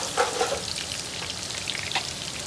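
Four garlic cloves frying in oil for an ay khanom dish, a quiet, steady sizzle and crackle with a few sharper pops near the start.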